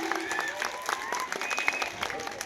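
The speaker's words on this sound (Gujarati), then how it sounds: "ખૂબ ખૂબ સુંદર તાળીઓ થઈ જાય" Audience applause at a primary school road-safety drama performance, a moderate run of clapping from a gathered group, with tonal whistling or voices threading faintly through it.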